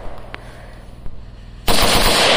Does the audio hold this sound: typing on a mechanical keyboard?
no